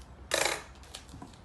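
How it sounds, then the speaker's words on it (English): Tape being torn or cut off a roll for a children's craft, one quick crisp rip lasting about a quarter second, close and fairly loud, followed by faint handling noises. "we're going to get our tape and we're going to cut a little piece of it off"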